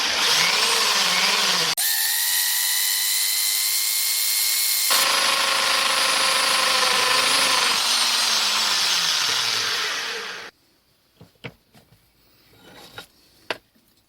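A drill bores a line of holes through metal to form a slot for lathe thread gearing, a loud steady whine with shifting pitch that pauses briefly, then ends and gives way to scattered metallic clinks.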